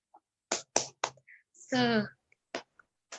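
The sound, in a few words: class doing the 'tepuk semangat' clapping chant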